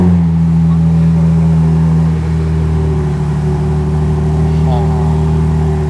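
The engine of a Ferrari 296 GTB plug-in hybrid runs with a steady, loud low hum and a faint swell partway through, while people talk over it.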